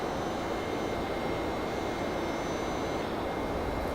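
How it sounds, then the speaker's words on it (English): Steady, unbroken roar of a Boeing 767 jet engine heard from a coach seat in the X-Plane flight simulator, a broad constant cabin drone with no voices. "Obviously hear some roar from the engine there,"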